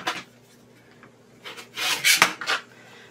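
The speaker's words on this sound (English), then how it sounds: "First, we're going to trim off that little edge to make a nice square." Quilt fabric for a baby quilt is trimmed square, with a few short, soft scraping cuts that come in quick bursts, close and fairly quiet, with no talking.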